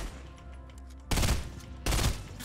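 Gunfire in the video game Fortnite: two loud, sharp bursts of shots cut through a quieter, steady background, the second burst coming under a second after the first ends.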